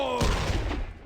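Gunfire rattles in a video game as a loud, close burst of overlapping shots that fades over about a second.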